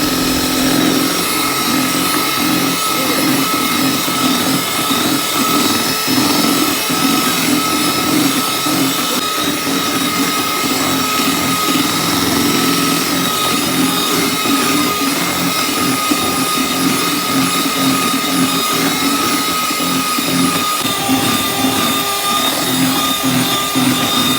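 An electric beater whips cream with powdered sugar and milk powder for a birthday cake, giving a continuous loud motor whir that stays steady for the whole stretch without pause.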